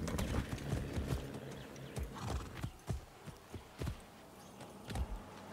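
Horse hooves clip-clop in Far Cry 6, a run of sharp, uneven hoof strikes over a busy game background with an occasional whinny.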